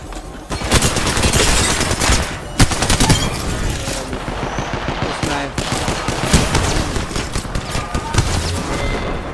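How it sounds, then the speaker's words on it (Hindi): A laser gun in BGMI's Dragon Ball Z mode fires in a dense, loud, continuous rapid barrage with constant rattling shots and a few heavier booms. "ये लेजर गन अब अलग तरीका से चलता है"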